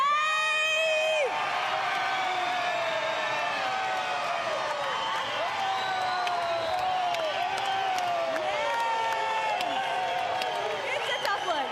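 A large crowd at a South African political party's federal congress cheers, whoops and shouts with many overlapping high voices, loud and continuous throughout, without pause.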